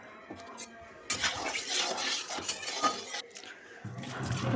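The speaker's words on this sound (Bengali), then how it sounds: "কড়াইটাকে একটু ধুয়ে নেব।" A kadai (wok) is rinsed in a kitchen while cooking taro, with clinking metal, splashing running water and scrubbing that swell and fade in bursts, fairly close and with no talk.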